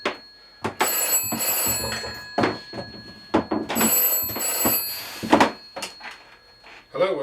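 A telephone rings in repeated double bursts at a gunnery shop where an SMK Victory CP2 air pistol is being assembled, with clattering and speech between and over the rings.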